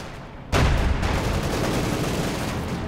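Machine gun fire in the Company of Heroes 2 strategy game, with MG40s shooting: a sudden loud onset of dense, sustained rattling fire that keeps going, with a fuller battle din behind it and no talk.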